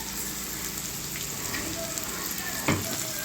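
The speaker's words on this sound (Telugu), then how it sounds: "ఉల్లిపాయలు వేగిన తర్వాత పచ్చిమిర్చి, ఉల్లిపాయలు బాగా వేగాలి, గోల్డ్ కలర్ రావాలి" Onions and green chillies fry in hot oil, a steady soft sizzle with light crackle and one sharp clatter near the end, fairly quiet and with no voices.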